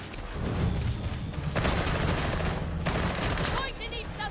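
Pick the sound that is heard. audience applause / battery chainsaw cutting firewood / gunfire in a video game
gunfire in a video game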